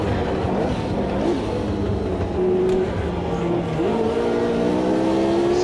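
An old-school race car in Automobilista 2 drones steadily with a continuous engine note, shifting pitch slightly as it revs, close and loud throughout with no voices.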